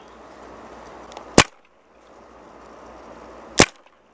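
Two sharp, loud single gunshots from a long-range test in the video game Apex Legends crack about two seconds apart over a quiet background hum.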